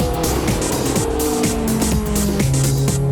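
A Toyota TRD Hachiroku race car at the end of a Super N2 circuit race, its engine screaming at high revs with rapid gear-change pitch drops, loud and continuous, with tyre noise over it.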